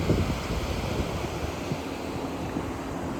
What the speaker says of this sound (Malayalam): ഈ കാണുന്ന കടൽ,